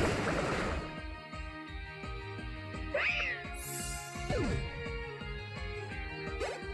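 Meowstic's cry rings out in Pokémon Y, a pair of high, sweeping cat-like meows over steady, rhythmic battle music.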